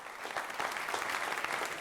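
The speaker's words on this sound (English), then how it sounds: "I want you to all give them a round of applause" Short burst of lecture-hall applause for a series sponsor at a talk on exercise for people with multiple sclerosis, with a crowd clapping steadily and building slightly in loudness.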